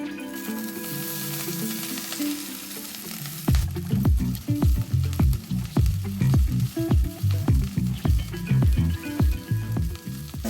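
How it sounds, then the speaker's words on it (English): Broccolini charring in a hot cast iron skillet over high heat: a loud, close sizzle that turns into a run of rhythmic knocks and scrapes as the pieces are tossed and stirred, with no talking. "We're gonna be heating it up to high heat and we're gonna be charring our broccolini."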